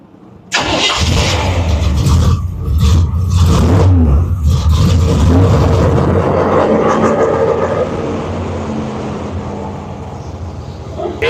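A car engine cranks and catches after a heater core shut-off valve mod, then settles into a steady close idle that eases slightly quieter toward the end, with brief talk over it.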